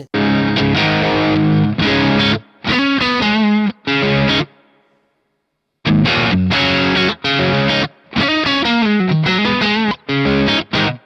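Heavily distorted electric guitar played through a Valeton GP5 effects pedal plays chords and riffs in loud bursts, separated by brief pauses and one longer silence.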